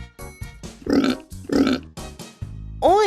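A pig oinks twice, two short nasal grunts about half a second apart, close and loud over a light, rhythmic children's backing tune.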